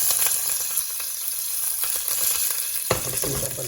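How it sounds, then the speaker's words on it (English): Green chilies and curry leaves dropped into hot crackling oil for aubergine rice, producing a continuous bright sizzle with a louder burst of spitting near the end. "Once it starts crackling, you can then put in some green chilies."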